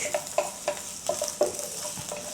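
Ginger slices and spring onion frying over medium to low heat, a bright steady sizzle broken by a quick rhythm of light scraping stirs.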